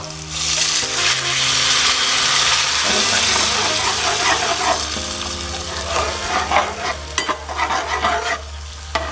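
Plain water poured into a hot pan of stir-fried oysters with holy basil, setting off a loud burst of sizzling and steam hiss that gradually settles into bubbling and stirring, heard up close.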